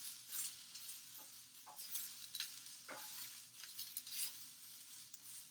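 Almonds, one to two tablespoons, sizzle in a pan over lowered heat while being stirred, a steady bright frying hiss broken by soft scraping strokes and light patter throughout, close and alone.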